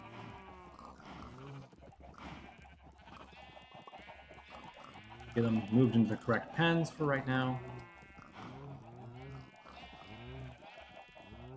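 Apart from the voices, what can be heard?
sheep bleating in Minecraft video game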